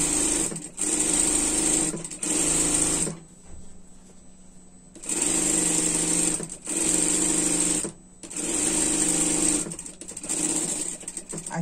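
A sewing machine stitching fabric for a skirt, running in several steady bursts of rapid mechanical whirring with short pauses between runs, close and clear, with no voices.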